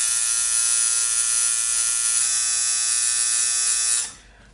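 Tattoo machine buzzing steadily with ink loaded, used on practice skin over bottles; a loud, continuous close-up electric drone for about four seconds that then cuts off abruptly.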